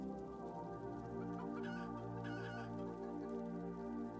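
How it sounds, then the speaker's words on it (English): Chickens cluck in the video game Planet Centauri, a continuous fowl chatter set over a steady, tonal game background that runs without pause and with no talk. "Chickens."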